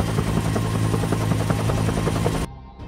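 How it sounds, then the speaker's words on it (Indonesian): A helicopter hunting an escaped prisoner in a gangster film thunders close and loud with steady rotor beating, then cuts off abruptly near the end and leaves only a quiet background. "Sebuah helikopter dan ratusan petugas dikerahkan untuk menangkapnya kembali."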